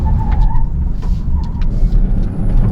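A Kia EV6 GT 585 hp electric car braking hard from speed, with a steady low road and tyre rumble filling the cabin and faint higher whines and scuffs on top, loud and continuous with no talk.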